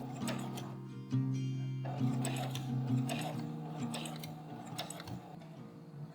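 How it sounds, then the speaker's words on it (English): A sewing machine stitches a seam 3/8 inch from the fabric edge on baby bloomers, running in short steady mechanical bursts with a humming motor and clicking feed, backstitching at the ends with no talk. "don't forget to backstitch at the beginning and end"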